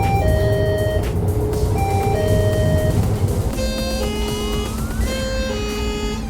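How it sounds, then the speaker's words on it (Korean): A new electronic stop-request chime on a KGM Commercial electric bus plays a run of bright melodic tones over steady, loud cabin and motor hum. "승객들의 하차벨 소리 역시 기존의 대우나 범한 자동차에서 들을 수 있었던 친숙한 음색에서 완전히 새로운 전자식 소리로 변경되었습니다"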